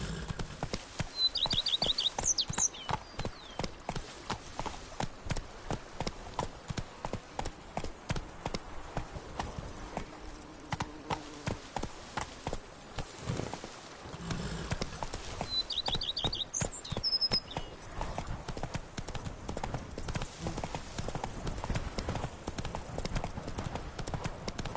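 Hoofbeats of the horse Roach in a PS4 video game, a steady rhythmic clip-clop of walking hooves that continues throughout, with a couple of short bird chirps overhead.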